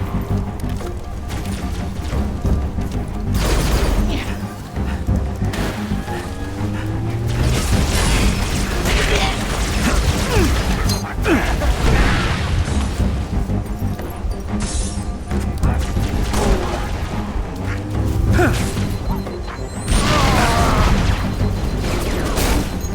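Gunfire and explosions in the Halo Reach video game during a firefight, with dense, continuous combat noise and repeated booms throughout, and voices calling out under the shooting.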